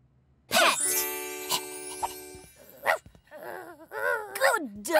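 A cartoon dog barks several times in short, bright yips among animated sound effects and tones, while high, lively character voices talk over and between the barks.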